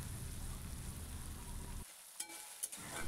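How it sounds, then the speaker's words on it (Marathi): Soaked chana dal with tomato and onion frying in oil in a pan, a soft, steady sizzle with faint stirring and a couple of light scraping clicks, quiet and close without any talk. "भिजवून घेतलेली चण्याची डाळ ही देखील टोमॅटोसोबत आणि कांद्यासोबत आधी तेलावरती छान परतून घ्यायची"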